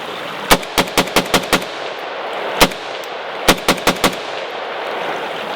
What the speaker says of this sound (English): we're going to run a few rounds into the hillside right here.